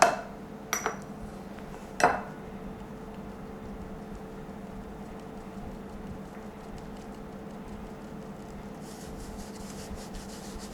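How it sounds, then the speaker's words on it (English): All-purpose flour, baking powder and baking soda are sifted into a bowl: a few sharp clinks open, then a soft, steady rasping rub continues quietly with no speech. "Now into this bowl I'm going to sift the all-purpose flour, baking powder, baking soda"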